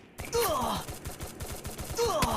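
Gunfire in the mobile shooter Free Fire, a rapid burst of repeated shots in a steady rhythm lasting a couple of seconds, with in-game effect tones and a brief vocal groan.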